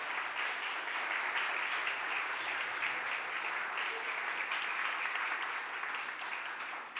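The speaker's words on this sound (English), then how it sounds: "Let's give him a real big round of applause as well." Steady, sustained audience applause fills a Philadelphia City Council chamber for boxing champion Danny "Swift" Garcia, a dense continuous wash of many hands clapping that holds at an even level throughout.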